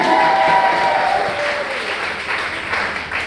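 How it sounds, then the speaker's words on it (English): A crowd applauding, a dense wash of clapping that is loud at first and gradually tapers off, with cheering mixed in. "Give her a huge round of applause"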